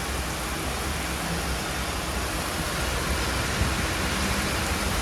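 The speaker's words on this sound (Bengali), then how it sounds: "খুব বৃষ্টি হচ্ছে" Steady, dense hiss of heavy rain pours continuously, heard from a train near Murshidabad, a broad even wash of noise with a faint low rumble underneath.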